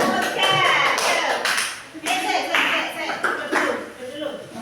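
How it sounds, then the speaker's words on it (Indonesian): Students clapping in a classroom for a group, uneven bursts of hand claps mixed with talking and shuffling, rising and falling in short waves. "Tepuk tangan buat kelompok 3."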